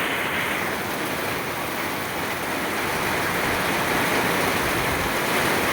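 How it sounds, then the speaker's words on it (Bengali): Steady, dense monsoon rain falls outdoors on the first day of the rainy season as gusty wind sways coconut palms, a continuous close wash of noise with no pauses and no voices. "দেখো বৃষ্টি কেমন বৃষ্টি হচ্ছে।"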